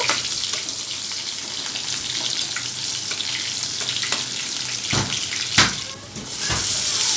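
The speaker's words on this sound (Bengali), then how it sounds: "দুই মিনিটের মতো রসুনগুলো খুব সুন্দর করে ভেজে নিয়ে" Garlic frying in a pan gives a steady, close hiss of sizzling oil, with a few soft clicks and small bumps scattered through it and a brief dip near the end.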